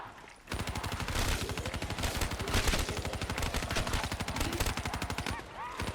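Rapid automatic gunfire in a shooter video game, a dense, steady stream of loud shots running almost unbroken for about five seconds before cutting off.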